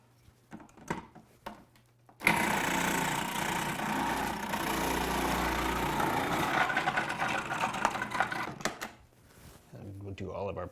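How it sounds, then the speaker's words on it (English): A food processor with a shredding blade whirs loudly as it shreds carrots and potatoes, starting abruptly and grinding for several seconds before cutting off, with a person talking before and after. "So I'm gonna switch to a shredding blade in the food processor."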